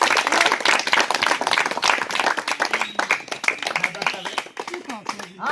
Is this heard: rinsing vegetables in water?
no